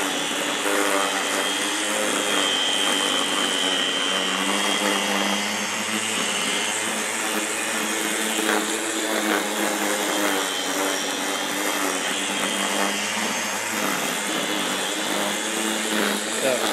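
An MTC220 combination mower and string trimmer cutting a thick, overgrown lawn, its steady high-pitched motor whine droning loud and close without a break, the pitch wavering slightly as it works through the grass.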